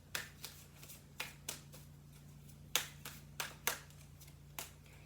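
A deck of Halloween Oracle cards is shuffled in about a dozen sharp, quick riffles and snaps at an irregular rhythm. The sound is close and fairly quiet over a faint steady hum, with no speech.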